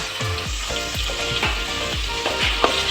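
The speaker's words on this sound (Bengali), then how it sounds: "এবার ভাজতে থাকবো আমি এটা।" Whole garlic, chopped onion and tomato frying in oil for a South Indian fish curry, a loud continuous sizzle broken by regular rhythmic thuds and scrapes of a spatula working the pan.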